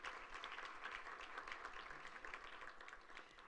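A seated audience gives steady, faint applause for an introduced guest, a continuous patter of many hands heard from a distance.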